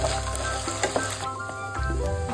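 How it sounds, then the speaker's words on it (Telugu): Small diced potato pieces fry in hot oil with a dense, continuous sizzle close by, broken by occasional stirring clinks and scrapes in the pan. "ఆలుని కొంచెం ఆయిల్లో ఫ్రై చేసుకోవాలి."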